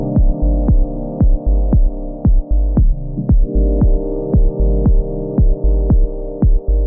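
Dub techno chords from the Luftrum Dub Chords vol.2 library pump in a steady rhythm, each stab ducking under a thudding kick through sidechain compression, with echo and reverb tails filling the gaps between hits.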